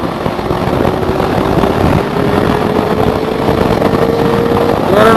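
A BMW G310GS motorcycle ridden on a highway roars steadily, its engine tone slowly climbing as it is pulled harder, with heavy wind rush around it.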